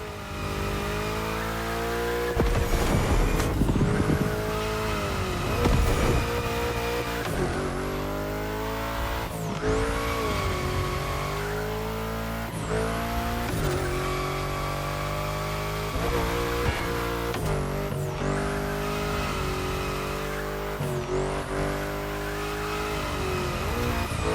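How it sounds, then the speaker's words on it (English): Tires squeal and an engine revs hard as a car drifts through bends in the racing video game The Crew Motorfest, the screech rising and falling repeatedly over a steady loud engine roar with no talk. "While you're in a bend, release the throttle, turn the steering wheel to change course, and hit the throttle again."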